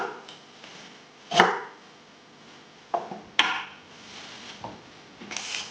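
A knife cuts peeled vegetables into quarters on a board for a slow roast lamb sandwich: a few sharp, separate chops close up, with quiet gaps between them and no talking.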